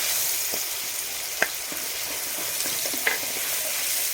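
Green chilli and mint paste, with onion paste, sizzles steadily in a pan for capsicum curry, a close continuous frying hiss with a few soft stirring knocks and no voices.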